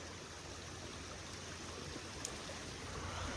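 A creek runs muddy after rain, its water making a faint, steady rushing hiss outdoors with no voices.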